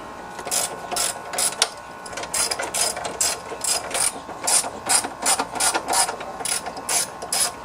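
A ratchet wrench clicks in rapid, repeated bursts while turning 10 mm nuts and bolts on a Honda generator. The close, loud ratcheting carries on through the whole stretch with only brief pauses between strokes.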